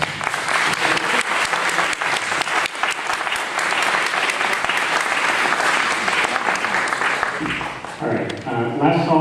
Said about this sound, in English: Round of applause for both these speakers.